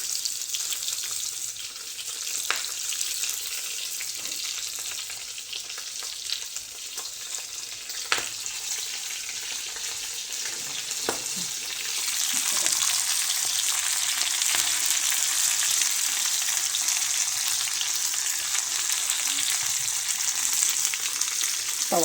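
Stuffed Bhavnagari chillies fry on a pan filled with oil, giving a continuous bright sizzle with occasional crackles and stirring clicks. The sizzle grows louder and denser in the second half, with no talking.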